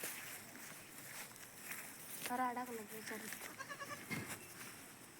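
Sheep and a goat on a Kolhapur farm bleat several times in a row, wavering calls close by amid faint shuffling steps and light rustling.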